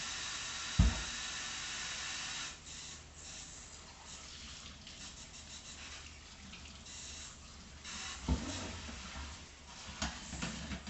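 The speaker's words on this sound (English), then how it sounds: "Hot water going." Hot water running from a kitchen tap, a steady broadband hiss of flow that holds for the whole stretch, with a couple of brief knocks and small shifts as hands or objects move under the stream.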